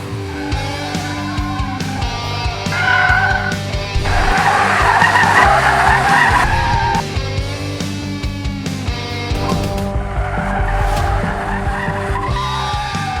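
A front-wheel-drive Mahindra XUV300 TurboSport SUV slides with loud, sustained tire skidding and squeal over engine noise, the screeching swelling in long bursts across the run.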